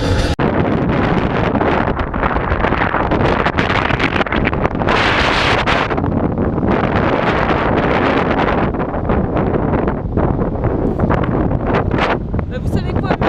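A strong wind buffets the microphone continuously in Australia, with roaring gusts and rustling through the whole stretch, loud and close.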